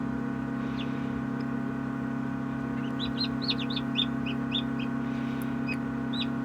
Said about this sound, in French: Et celui que vous entendez piailler, ben, c'est F4 qui est en train de se promener maintenant.